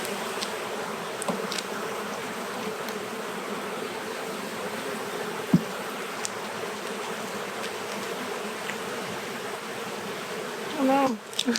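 Bees hum steadily around an open, sticky hive being built up before winter, a close, continuous buzz with a brief louder pass near the end.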